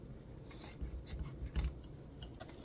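Scissors trimming ribbon on a spring grapevine wreath, a few quick faint snips and rustles close by in a quiet room.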